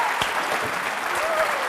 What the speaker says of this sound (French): On applaudit Ariane.